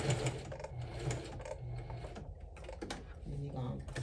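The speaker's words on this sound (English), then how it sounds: "sew across the bottom" A sewing machine stitches across the bottom of a quilted crossbody handbag made from a scarf bandanna, a close, rapid mechanical whir in short bursts with brief pauses between runs.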